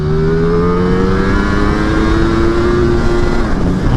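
A 2020 Ducati Streetfighter V4 engine revving high, a loud, steady, near howl held at high pitch with the tone sliding slightly, no talk.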